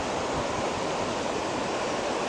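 Rushing river water fills the scene with a steady, broad roar, constant and close, with no other sounds standing out.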